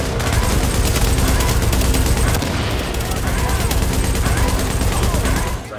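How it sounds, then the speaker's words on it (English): A light machine gun in The Division, firing loud, rapid, sustained bursts of gunfire up close with dense overlapping shots and brief lulls, continuous until a sudden stop at the end. "Luckily, I got this light machine gun."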